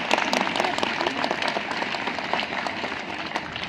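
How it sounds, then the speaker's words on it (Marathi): An audience at a school playground event gives a welcoming round of applause, steady and moderately loud for several seconds. Some murmured voices mix into the clapping. "सगळ्यांनी एकदा जोरदार टाळ्या वाजवून पाहुण्यांचं स्वागत करूया"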